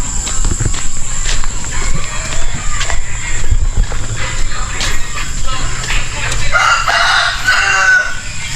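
Backyard chickens cluck and shuffle close by while a rooster crows loudly toward the end, over a steady farmyard background.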